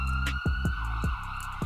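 An ambulance siren wails outside a window in a city neighborhood near hospitals, a repeating rising-and-falling tone heard at moderate distance, with no talking.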